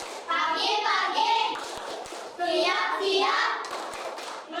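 Children at a morning class play a rhythmic clap game, bursts of hand claps mixed with chanting young voices, loud and close, with a short pause midway.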